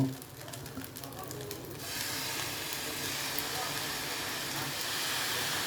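Soy sauce splashes into pasta frying in a pan, setting off a sudden, steady sizzling hiss that jumps up partway through and holds loud to the end.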